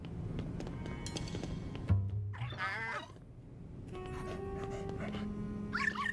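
Video game dog giving a few quiet yips and whimpering barks amid electronic game tones and jingles, faint and intermittent.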